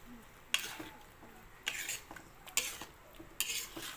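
A spoon scrapes and clinks through a creamy chicken and mushroom dish in a pan, four distinct stirring strokes spaced about a second apart over a quiet background.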